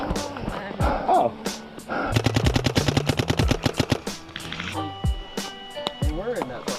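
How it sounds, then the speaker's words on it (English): Rapid automatic gunfire rattles in dense bursts from a bridge in an online shooter match, loud and close, with voices talking over the shots and scattered single reports before and after. "they're shooting from the bridge"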